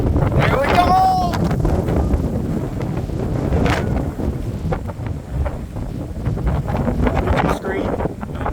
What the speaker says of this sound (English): Dude, those are crazy gusts.